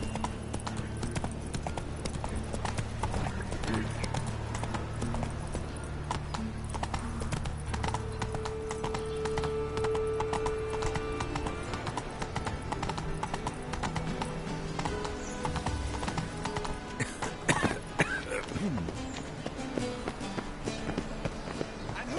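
The horse Roach's hooves clip-clop in a steady trotting rhythm throughout The Witcher 3, close and continuous, with a brief whinny-like tone and faint game ambience but no speech.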